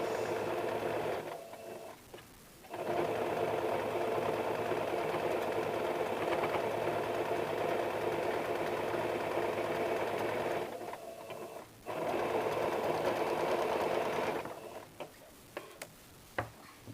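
A sewing machine runs a pressed finishing seam along a blouse strip, two long steady whirring runs broken by a short pause and ending in a brief stop, close and clear with no talk.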